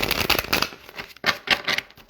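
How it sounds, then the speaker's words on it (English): Tarot cards are shuffled in quick riffling bursts, a papery fluttering rush that stops briefly and then starts again, close and fairly loud. "I'm just going to shuffle the cards again."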